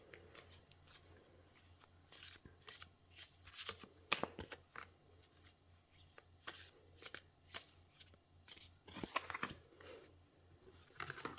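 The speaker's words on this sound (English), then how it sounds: "Oops, throwing cards around everywhere." Tarot cards being shuffled by hand, a run of crisp riffling bursts and soft flapping slides, close and fairly quiet, with brief pauses between shuffles.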